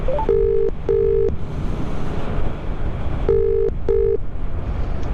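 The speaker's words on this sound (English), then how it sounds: "all I have to do is say, hey Cardo, speed dial, and it phones your mobile" Phone dialing tones sound as a Cardo intercom speed dials a mobile from a moving Yamaha MT-07 motorcycle, with four short steady beeps in pairs over constant wind rush.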